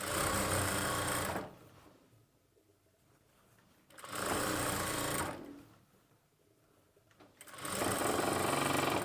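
A sewing machine stitches the side slit of a chudidar top, running in three steady whirring bursts with short quiet pauses between them, close and clear.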